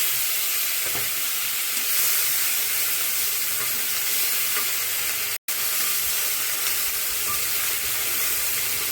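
Tomato frying in a pan with ginger-garlic paste, cumin tempering and green chillies for a tilapia fish curry: a steady, loud, dense sizzle with light stirring, broken by one brief cut near the middle, no voices.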